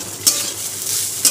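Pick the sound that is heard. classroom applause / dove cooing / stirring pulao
stirring pulao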